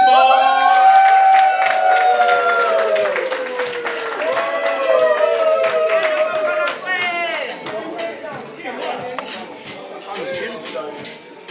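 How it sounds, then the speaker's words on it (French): Guests at a religious wedding break into applause, a lively wash of clapping with voices and cheers riding over it, loud at first and gradually thinning out toward the end. "Vos applaudissements"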